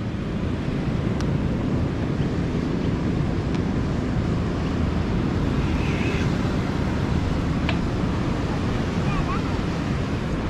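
Strong wind roars across the microphone during a bike ride along a beach between Titusville and New Smyrna Beach, a loud, constant rumble with ocean surf mixed into it and no clear talking.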